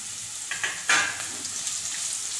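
Chopped onion sizzles and fries in a hot pan while being browned for a bottle gourd curry, with a few sharp stirring scrapes and crackles over a steady close hiss; no one speaks.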